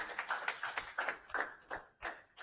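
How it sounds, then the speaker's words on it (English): A few people at a blockchain talk clap for a speaker, a sparse, faint patter of individual claps in short uneven bursts rather than full applause. "Please, a round of applause for him."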